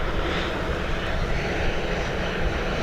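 A British Airways airliner from Heathrow arrives at Dublin Airport on a windy day, giving a brief, steady engine roar at moderate distance with no clear voices.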